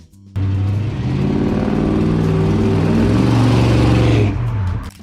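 A 1967 Dodge Coronet 500 engine fires up and runs with a loud, deep rumble and steady revving, cutting off abruptly after about four seconds.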